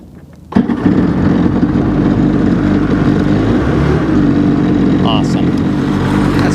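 A Sea-Doo jet ski with a newly rebuilt engine catches abruptly and then runs at a loud, steady idle-to-throttle drone, close by and continuous to the end.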